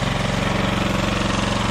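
A lawn mower engine idles steadily with the blade disengaged, its small motor putting out a continuous, even chugging at close range that stays constant and uninterrupted, with no voices heard over it.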